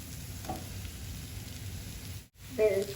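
Soya keema masala frying in a pan as it is stirred, a steady close sizzle with occasional scraping of the spoon and a brief louder stir near the end.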